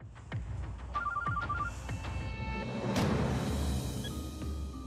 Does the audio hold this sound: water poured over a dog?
no